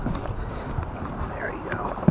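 Strong wind buffets a sailboat with steady rushing, gusty noise near the microphone, mixed with faint water and hull sounds and a sharp knock at the end.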